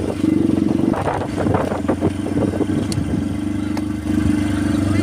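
A motorcycle rides along a concrete road, its mid-pitched engine chugging steadily with clatter and small rev changes, close and fairly loud throughout.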